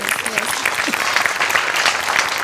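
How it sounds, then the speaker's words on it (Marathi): Sustained applause from a stage-show audience, a thick, even wash of clapping that fills the whole moment, with faint voices mixed in beneath it. "पुन्हा एकदा तुझ्यासाठी टाळ्या"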